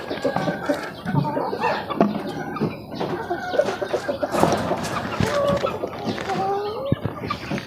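Chicks peep and cluck around a drinker filled with egg and vitamins, busy overlapping chirps close by with a person talking over them.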